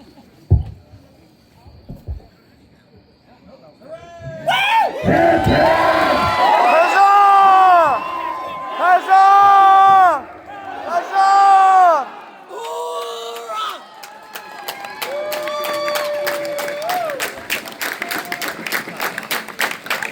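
A crowd cheering and whooping at a guild elevation event, with children shouting and clapping in loud bursts, mixed with voices and tonal electronic music tones later on.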